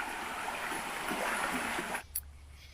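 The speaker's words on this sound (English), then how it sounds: "in the meantime we have this little creek to keep us company" A small creek beside the Appalachian Trail on Brushy Mountain, steady close babbling and trickling water that cuts off abruptly near the end.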